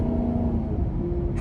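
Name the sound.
Maserati GranTurismo MC engine and exhaust revving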